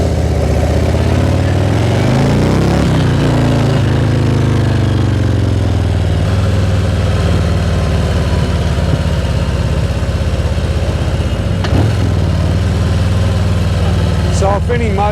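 A Harley Davidson motorcycle engine runs steadily with a low, loud rumble for the whole stretch, with a brief throttle change near the start and wind buffeting the microphone.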